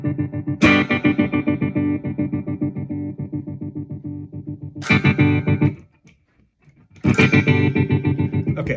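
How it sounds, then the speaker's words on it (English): An electric guitar plays strummed chords through a Fender Mustang GT amplifier with no effect engaged, loud and close, in three bursts of rhythmic strumming separated by a short silence. "You want to hear what it sounds like without any effect?"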